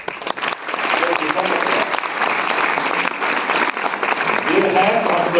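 An audience at the CMA Asansol Chapter Conference 2023 applauds with steady, dense clapping that fills the hall loudly and continuously from start to finish.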